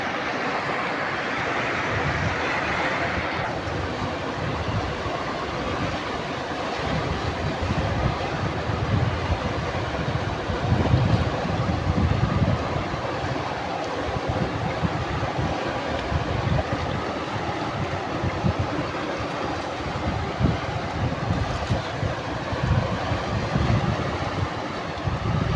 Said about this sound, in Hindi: अभी पानी बहुत तेज़ हो चुका है